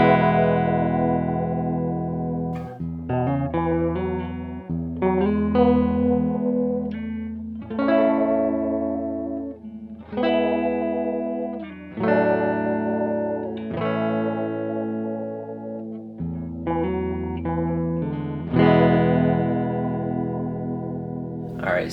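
A Chase Bliss Audio and Cooper FX Generation Loss pedal, set with all controls at noon, colors a series of loud sustained instrument notes and chords, each swelling and slowly decaying with a warm, slightly wavering effect, and no talking.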